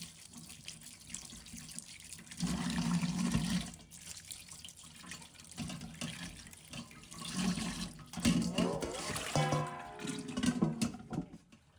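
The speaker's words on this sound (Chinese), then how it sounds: "再准备一条白萝卜和莲藕，先把表面的泥土清洗干净。" Daikon radish and lotus root are rinsed of surface mud under a running kitchen tap, giving a continuous splashing water flow that swells and changes as the vegetables move in the stream, with no talking.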